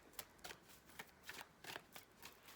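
Tarot cards being shuffled close by in a quick series of crisp riffling bursts, about ten in a row, with no talking.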